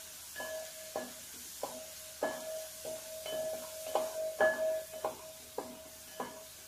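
Peanuts dropped one by one into hot oil for masala peanuts, each addition giving a sharp bubbling sizzle over a quiet steady hiss, repeating about ten times in an uneven rhythm, close and fairly soft, with no speech.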